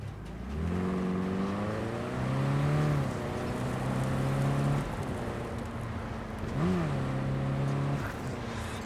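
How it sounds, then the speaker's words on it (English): A car in the Cyberpunk 2077 video game roars to life and accelerates away, engine pitch climbing and shifting through gears for several seconds, then dipping and rising again as it revs hard, loud and close with no talk. "So as soon as you find Saul, I'll fire up the engine and we'll speed out of there."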